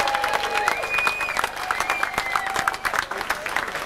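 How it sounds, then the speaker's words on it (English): Outdoor crowd applauding at a 40th-anniversary independence celebration in Cuckfield, steady dense clapping with a few whistles and cheers rising above it, fairly close and sustained throughout. "big round of applause"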